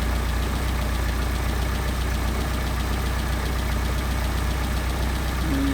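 A Mercedes 190SL engine with Solex carburetors idles steadily and close by, a continuous low rumbling hum with a fine rhythmic pulse, running alone without voices.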